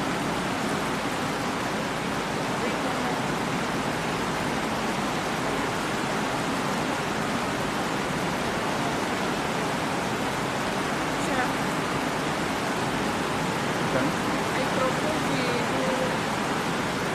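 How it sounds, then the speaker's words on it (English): Heavy rain falls steadily outdoors at a formal gathering of heads of state, a dense, even hiss filling the air with no breaks, loud and close throughout. "I think we give the rain a few minutes."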